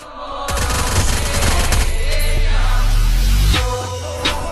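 Gunfire in a shooting video game, a loud dense fusillade of rapid shots with booming low rumble, sustained for several seconds before tapering off into a few scattered cracks.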